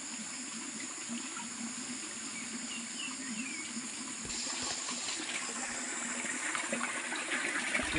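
Spring water flowing steadily over stones at an eel-catching spot in the countryside, a continuous close rushing and trickling wash that grows slightly louder partway through, with no voices.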